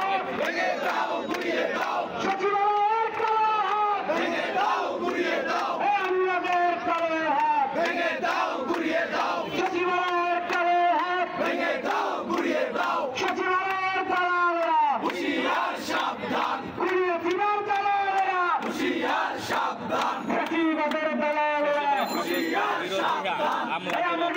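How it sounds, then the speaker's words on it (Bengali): Protesters chant slogans in rhythmic, repeated bursts outside Secretariat gate 5, a large crowd's voices rising and falling together in a loud, sustained call-and-response cadence. "এই মুহূর্তে কিন্তু সচিবালয়ের ৫ নম্বর গেটের সামনে তারা স্লোগান দিচ্ছেন"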